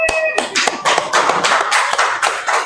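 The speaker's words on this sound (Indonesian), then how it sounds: "Berikan tepuk tangan untuk kelompok 4" A group in a classroom session claps in a short, dense burst of hand applause close by, steady and lively for a few seconds.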